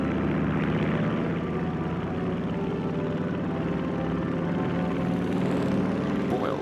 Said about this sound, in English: the pilot climbed aboard and taxied off to make the first official flight